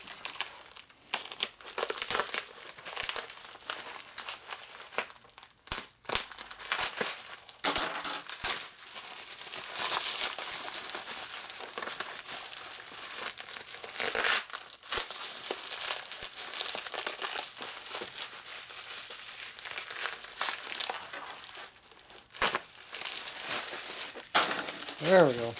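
A taped, well-wrapped eBay parcel holding motorcycle engine parts is torn open and unwrapped, with close, loud, continuous crinkling, crumpling and tearing of packing material and a voice heard at times.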